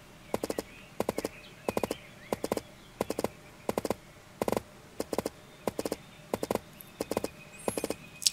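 Rhythmic clip-clop of a horse's hooves in the zombie game Dead District, with regular bursts of sharp hoofbeats repeating steadily at close range over a low game ambience.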